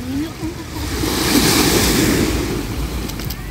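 Ocean surf rolling onto Dahican Beach, a broad continuous wash of breaking waves with wind buffeting the microphone, swelling slightly in the middle.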